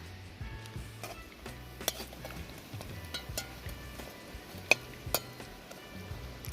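Fish fry in a pan with a faint, quiet sizzle, broken by occasional sharp clinks of utensils against the pan.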